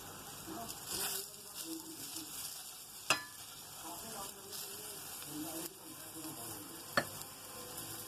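Low-fat aloo tikki cooking in a pan brushed with oil, a faint continuous sizzle with soft scraping and two sharp taps, quiet and close, with a voice talking over it.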